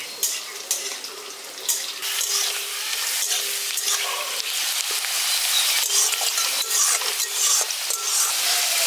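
Potatoes frying in a pan until reddish for a village-style drumstick curry, a loud, continuous hiss of hot oil with small crackles and occasional clatter of stirring throughout.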